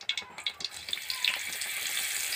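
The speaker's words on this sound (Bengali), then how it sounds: "এবার আমি ওই তেলের মধ্যে দিয়ে দেব গোটা শুকনো লঙ্কা 2টো, আর দিয়ে দেব গরম মশলা।" Two whole dried red chillies and garam masala frying in hot oil, a few quick crackling pops at first that settle into a continuous hiss, close by.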